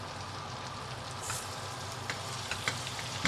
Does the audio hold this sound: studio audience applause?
no